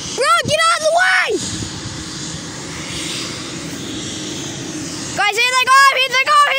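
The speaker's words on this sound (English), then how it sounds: "They're going. Propellers are moving." A helicopter's engine and spinning propellers roar steadily as it lifts off near houses, a loud broadband wash between bursts of nearby talk at the start and end.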